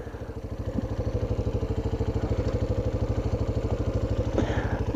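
A Chinese-made motorcycle assembled in Paraguay idles after stopping, its small engine putting out a steady, rapid, even putter with light mechanical clatter, close and moderately loud, with no talking.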